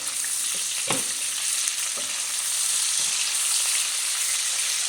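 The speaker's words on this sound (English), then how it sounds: "I'm just gonna put the beef in here to fry a bit" Salted beef sizzles steadily in a hot pan for lunch, a continuous broadband hiss, close and loud, with a few soft stirring knocks scattered through and no talking.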